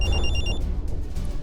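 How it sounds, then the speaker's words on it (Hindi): A phone ringtone trills, a bright electronic bell-like ring of rapid pulses lasting about half a second over a low rumbling background, then cuts off. "तभी मेरा फोन बजा"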